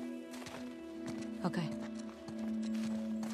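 Horse hooves clip-clopping in the post-apocalyptic game The Last of Us Part II, a few irregular steps at moderate distance under a steady low drone, with a brief spoken word over them.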